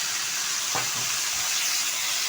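A bunch of chopped, washed kulekhara greens drops into a pan of fried eggplant, setting off a steady, close hiss of sizzling oil with a brief soft rustle and stir early on.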